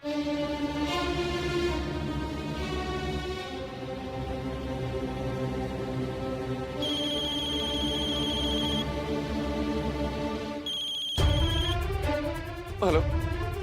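A telephone rings in a Hindi TV drama scene, electronic ring bursts sounding over sustained dramatic background music.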